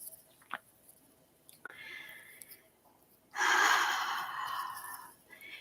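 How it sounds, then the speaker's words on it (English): Slow meditative breathing during a morning meditation session, with soft isolated breaths followed by a long, fairly loud exhale or rushing breath in the second half; no talking. "I'm going to go ahead and do some breathing this morning."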